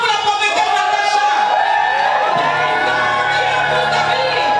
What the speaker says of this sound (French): j'aimerais qu'on pousse des cris de joie pour la prophétesse Natacha